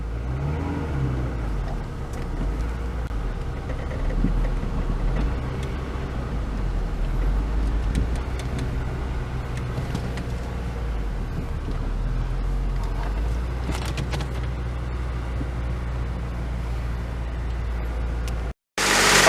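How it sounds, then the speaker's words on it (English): Honda Civic Si EP3 with a K20A3 engine and a worn belt tensioner, pulling away with a steady, loud engine drone and a faint rattle buried in it, heard from inside the car. "as I take off you can hear the rattling"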